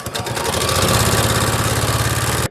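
A sewing machine runs steadily, stitching scrappy quilt fabric strips together in one loud, continuous mechanical whir with a rapid even pulse, close up and without talk.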